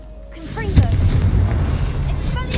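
A Confringo blasting spell in Hogwarts Legacy goes off as a loud, rumbling boom with crackling debris. It swells suddenly and rolls on for a couple of seconds. A voice speaks over it.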